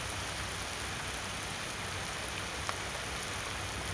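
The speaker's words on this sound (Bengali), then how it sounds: "সেরকম বৃষ্টি হচ্ছে হালকা, ঠিক আছে, খুব একটা জোরে পড়ছে না" Light rain falling steadily outdoors, an even soft hiss of drops on surfaces with no breaks, moderately close and without voices.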